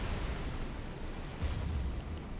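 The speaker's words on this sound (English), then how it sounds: "It was a nice magazine explosion here on poor Nagara." A ship's ammunition magazine blowing up in the naval combat game War on the Sea, heard as a steady low rumbling roar that swells briefly midway, with no talking.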